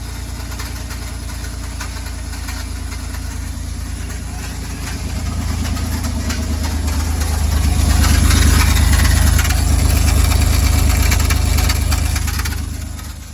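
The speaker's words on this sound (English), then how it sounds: "The starter's grinding against something in the flywheel." A car starter grinds against the flywheel while trying to start the engine, a continuous rough, rapid chatter that swells louder toward the end, close by, with faint talk in the background.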